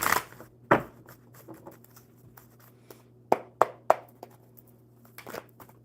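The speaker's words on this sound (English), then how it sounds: "Gail, one more good shuffle." A deck of playing cards is shuffled by hand in several quick riffles and snaps, close and crisp, against a quiet room.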